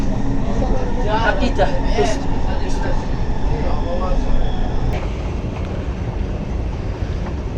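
Steady low rumble and whoosh of a driverless metro train car in motion in Riyadh, with faint voices talking underneath the continuous travel noise.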